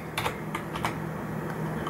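A computer keyboard gives a few quick, close keystroke clicks in short clusters as a code is entered for a Roblox game, with a low steady hum beneath.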